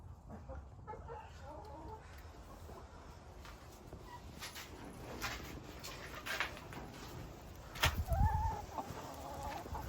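Several chickens cluck and murmur nearby in short bursts, with rustling and a louder squawk near the end; no one speaks.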